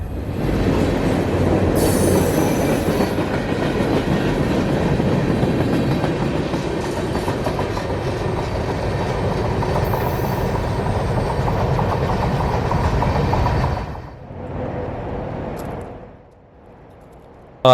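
A long freight train rumbles past with rhythmic wheel clatter and occasional high squeals, steady and loud before fading at the end.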